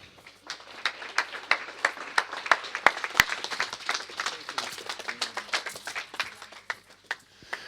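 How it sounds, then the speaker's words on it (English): A snooker audience at the 2015 European Masters claps for both players, with sparse, distinct hand claps at a brisk uneven rhythm that thin out toward the end. "give both players a round of applause"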